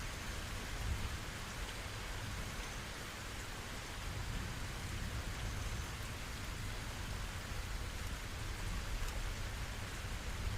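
Steady rain falls as a continuous soft hiss with faint low rumbling underneath, evenly textured and unbroken across the whole stretch.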